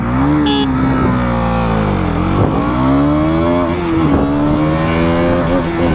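A 2024 KTM Duke 200 motorcycle accelerates hard, its engine revving loud and close through rising pitch sweeps with gear changes, continuous throughout and with no talk.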